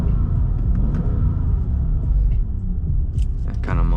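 A 500 HP topless AMG car engine rumbles low and muffled while cruising, a steady deep drone throughout, with a brief voice near the end.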